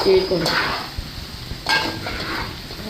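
Chicken and prawn pulao masala is fried and stirred in a pot, a hissing sizzle broken by two sharp metal scrapes of the spoon, fairly loud and close.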